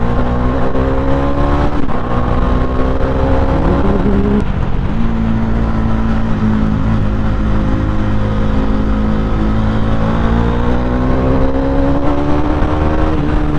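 A Bajaj Dominar 400 motorcycle engine runs steadily while riding through the city, a continuous droning hum with a brief shift in pitch early on and no talk.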